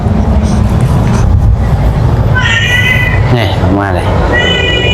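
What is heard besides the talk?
cat meowing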